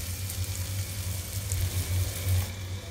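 Beans and potatoes sizzle and crackle steadily in a hot pan, a soft continuous frying hiss with a low hum underneath, no voices.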